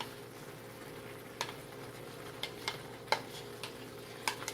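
Cooked turkey and onions being stirred into thick gravy for a winter vegetable shepherd's pie, with a few soft scraping taps of a utensil at irregular intervals over a steady low sizzle.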